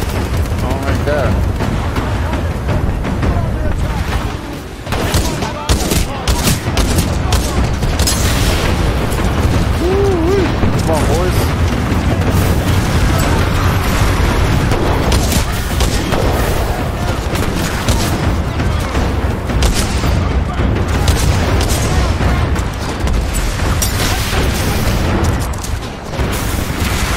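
Heavy gunfire and explosions from the Titanfall 2 battle form a continuous loud barrage of cracks, bursts and booms across the whole stretch, with a voice talking over the noise.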